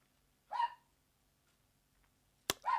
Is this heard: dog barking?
yes